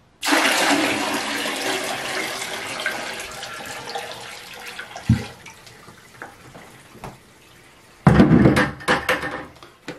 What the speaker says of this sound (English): next we're going to dump the water.